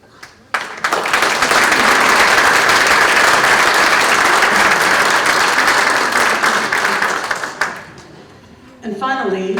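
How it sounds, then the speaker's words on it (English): A room full of people at a chamber of commerce legislative breakfast gives a loud, sustained round of applause for new members and guests, steady for several seconds before fading, with a voice starting up at the end. "So if you would all please stand so we could give you a warm Quarter 9 495 round of applause"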